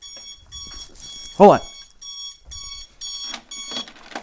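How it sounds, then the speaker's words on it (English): An alarm clock rings in repeated steady beeping bursts, while a person speaks briefly over it nearby. "My alarm went off."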